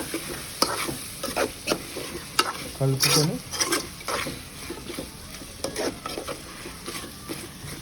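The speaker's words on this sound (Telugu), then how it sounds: "ధనియాల పొడి వేసి ఒక్కసారి మళ్ళీ అడుగంటకుండా మళ్ళీ ఒక్కసారి కలుపుకొని" A spoon scrapes and stirs chicken curry in a sizzling pan just after coriander powder goes in, with rhythmic scraping strokes over continuous frying crackle, close and fairly loud.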